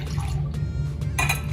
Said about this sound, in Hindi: ये एक पैन में मैं दूध डाल रही हूं।